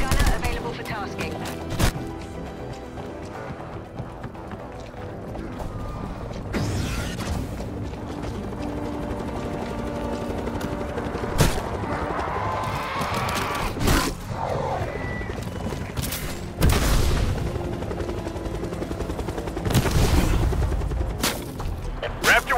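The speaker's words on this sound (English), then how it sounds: "Chopper inbound to Omega Base. Limited window, so move your ass. Chopper gunner available for tasking." Rapid bursts of automatic gunfire and heavy impacts from a chopper gunner attack helicopter in Call of Duty Black Ops Cold War, loud and dense, with repeated sharp blasts over a continuous roar of mechanical noise.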